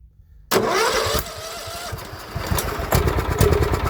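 A John Deere L110 lawn tractor that sat unused for three years cranks and its small engine catches, running roughly and loudly up close with uneven, sputtering revs.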